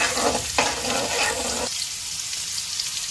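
Vegetables sizzle and fry in a pan, a bright hiss with stirring bursts that cuts out and drops to a softer crackle partway through, heard close with no talk.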